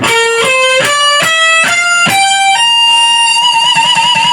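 Distorted electric guitar picks a rapid run of rising notes, then settles on a held note that wavers with wide whammy-bar vibrato.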